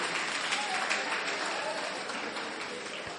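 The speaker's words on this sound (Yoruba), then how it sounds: "Ẹ bá ń pàtẹ́wọ́ fún." A school audience at an International Mother Language Day celebration at Messiah High School in Akure claps steadily, a dense, even patter of many hands lasting throughout.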